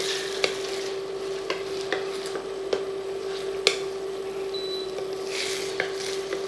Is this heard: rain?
no